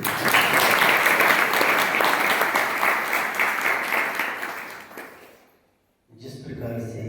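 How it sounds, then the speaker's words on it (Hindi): A crowd at a Jain religious discourse bursts into hearty applause for a person's proposal, clapping loud and continuous for about five seconds before dying away into a brief silence, after which a voice resumes speaking. "उस व्यक्ति के लिए एक बार ताली तो बजाओ"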